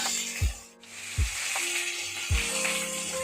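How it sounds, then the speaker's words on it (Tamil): Small whole peeled onions sizzle steadily in a hot pan for sambar, a continuous close frying crackle broken by three soft thuds of stirring, with no talking. "வெங்காயம் நல்லா வதங்கட்டும்."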